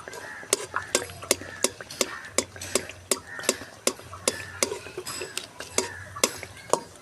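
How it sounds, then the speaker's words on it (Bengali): Khaja dough frying in hot oil while being turned, with a regular series of light metallic taps and clinks from a utensil against the pan over a low sizzle. "এভাবে ভেজে নিতে হবে।"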